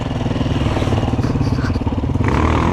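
Honda Hornet motorcycle riding along a sandy forest trail, a loud close engine drone with rattling clatter and bumps from the rough ground, continuous and unbroken.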